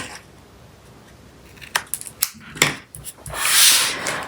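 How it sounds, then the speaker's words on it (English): Scissors make a few crisp snips close by, trimming the overhanging edge of a handmade thank-you card, followed by a soft sliding rustle of card stock. "Now I do want to just trim the overhang that I have on my card here"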